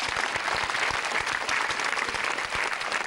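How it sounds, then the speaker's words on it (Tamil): Studio audience applause on a Tamil children's quiz game show, steady dense clapping filling the whole stretch at a lively, even level. "கைதட்டு"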